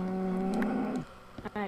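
A cow in the Minecraft video game gives a long, loud moo with a falling pitch, then a few short low grunting sounds follow.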